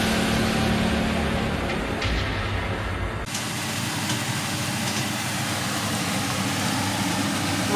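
A kitchen range hood fan runs with a steady broadband whoosh, then switches to a lower setting partway through, leaving a quieter, softer rush that continues to the end with no talking.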